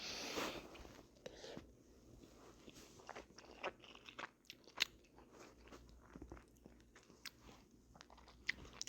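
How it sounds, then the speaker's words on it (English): Someone chews a mouthful of rice and ground beef close to the mic, with soft wet crunches and bites in an irregular rhythm and a faint background hiss. "I would apologize for the subpar audio of me chewing food"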